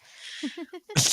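A few short breathy catches build up, then a single sharp, loud sneeze bursts out at the end.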